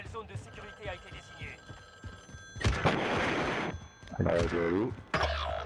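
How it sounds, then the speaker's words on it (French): A telephone rings inside the Warzone video game, its bell tones sounding in short bursts among gameplay noise and people talking. "Il y a un téléphone."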